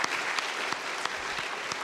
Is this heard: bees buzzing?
no